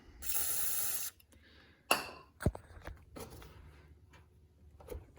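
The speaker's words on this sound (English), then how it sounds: "So we'll shoot some silicone at it." A can of silicone spray lets out one loud, close hiss for about a second at the radiator of a worn Kubota BX tractor, followed by quiet clinks and handling noises.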